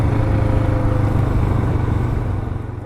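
A Royal Enfield Himalayan motorcycle riding along a winter road, a steady low engine drone with wind rumble, close and continuous, easing slightly toward the end.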